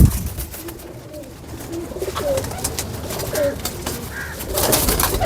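A home-raised Kamagar Teddy pigeon coos in repeated low, soft calls close by, with a steady noisy background.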